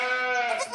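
A goat bleats on a farm, one sustained, close, loud wavering bleat with no other sounds.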